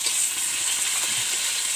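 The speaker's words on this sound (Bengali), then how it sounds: "এখন ভালোভাবে ভেজে নেব একদম" Ground dried red chilli paste with cumin and ginger-garlic paste frying in a pan, a steady bright hissing sizzle with soft stirring, close and even throughout.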